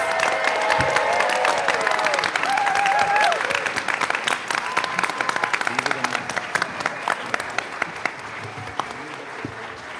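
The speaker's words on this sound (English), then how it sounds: "All right, let's give them another round of applause." Audience applause fills a school board business meeting, steady and full for several seconds, then thinning to scattered claps by the end, with a few faint voices mixed in.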